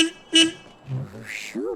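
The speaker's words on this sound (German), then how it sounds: "Da hupt der nächste." A car horn in the video game The Sims 3 toots in short honks, first two brief blasts then a later one, with game sounds and voice-like murmurs mixed in between.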